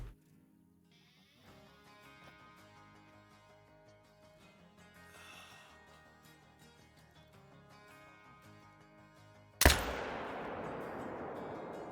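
A hunting rifle fired at a buck in Call of the Wild: one loud, sharp report near the end that rings out and decays, after a quiet stretch of ambient game sound and music.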